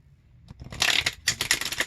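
A deck of oracle cards is shuffled close by in two quick riffling bursts, crisp and papery, with no talking over it.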